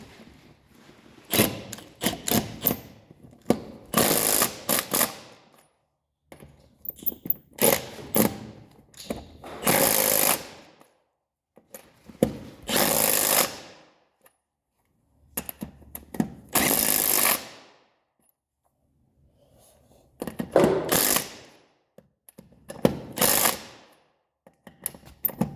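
An impact tool drives lug nuts with a 19 mm socket on a 2017 Polaris turbo side-by-side wheel, loud rattling bursts of hammering repeated about every few seconds with short pauses between.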